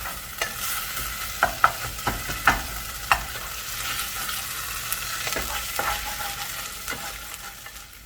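Chorizo frying in a little oil in a pan, a steady close sizzle broken by repeated clicks and scrapes as it is stirred, with no speech.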